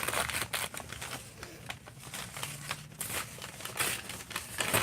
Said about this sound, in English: I'm going to rip this, so it's going to be loud for a second.